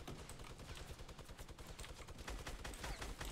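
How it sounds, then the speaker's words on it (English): A minigun in the Fortnite video game firing a long, unbroken stream of rapid shots, dense and fast with a rattling low-end pulse, steady and quite faint throughout. "He will waste all of his fucking minigun bullets"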